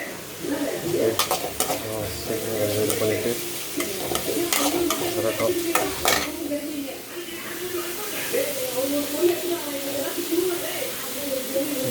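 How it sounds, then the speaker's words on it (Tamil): Onions sauté and sizzle in a pan for kothu chapati, with frequent metallic scrapes and clinks of a spatula against the pan while a person talks over the cooking. "கொஞ்சம் வதங்கிட்டோம் வெங்காயம் கொஞ்சம் வதங்கிட்டோம்"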